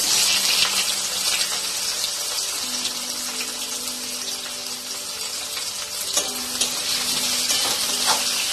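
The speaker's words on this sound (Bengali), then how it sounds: "পেঁয়াজগুলো লাল করে একটু ভেজে নেব।" Onions frying in oil for a Bengali-style mutton curry, a steady bright sizzle with light scraping and occasional clinks, continuous and close throughout with no talk.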